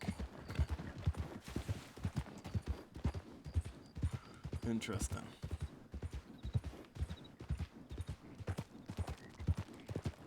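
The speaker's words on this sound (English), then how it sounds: "It's just a wild horse that was stuck." Steady clip-clop of a wild horse's hooves in a quick rhythm in a ranch roleplay video game, close by, with a person talking over it and a brief whinny in the middle.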